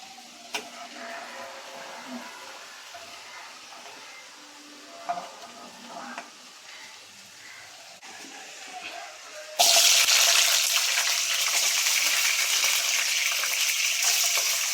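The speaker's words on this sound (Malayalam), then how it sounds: "അത് കഴിഞ്ഞ് നമുക്ക് നമ്മുടെ ചെറിയ ഉള്ളി ഇട്ട് കൊടുക്കാവേ." Small onions dropped into hot oil for a village-style fish chutney: a quiet stretch of faint stirring and pan knocks, then a sudden loud, steady sizzle from about ten seconds on, close by.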